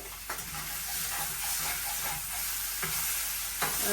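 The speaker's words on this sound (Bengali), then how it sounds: "মশলাটা কষানো হইতেছে আর মাছটা একটু ভাজা ভাজা হইতেছে" Spices and sea fish frying in a pan alongside spinach, a soft continuous sizzle and hiss with occasional spatula scrapes, fairly quiet and close, without any talk.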